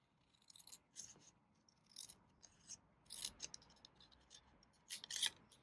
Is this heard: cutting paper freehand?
yes